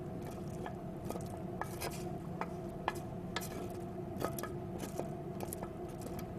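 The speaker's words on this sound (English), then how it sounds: "Now I'm going to add my ground beef. With the garlic and the onion." Ground beef with garlic and onion cooking in a pan for baked rigatoni, soft sizzling with scattered ticks and scraping clicks, close but quiet.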